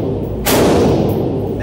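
A fully automatic machine gun lets off one short, loud, close burst lasting about half a second, with a rumbling tail and steady background noise before and after.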